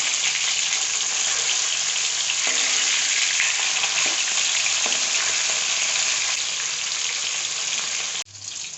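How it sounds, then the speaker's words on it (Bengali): Tilapia fillets sizzle steadily in hot oil in a pan, a loud, continuous frying hiss with a few soft clicks as the pieces are turned, dropping away sharply near the end. "মাছের একটা সাইড মনে হয় ভাজা হয়ে গেছে, এখন মাছগুলোকে একে একে উল্টে নেব।"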